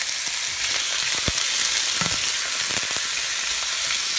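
Onions and chopped sausages fry in a pan, giving a steady close-up sizzle with a few light clicks and stirring knocks from start to finish.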